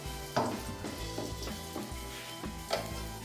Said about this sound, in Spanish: le echamos el ajito y nuestra rebanadita de pan. Y nos lo vamos a freír.